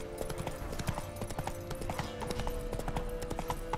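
A horse gallops in The Witcher 3, its hooves beating out a fast, continuous clip-clop rhythm up close, layered over game music and ambience with no speech.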